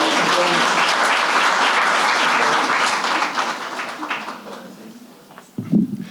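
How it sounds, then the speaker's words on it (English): A crowd at a community center anniversary celebration gives loud, dense applause that holds steady, then thins and fades toward the end before a brief closing bump of sound. "Let's give another round of applause for Rita"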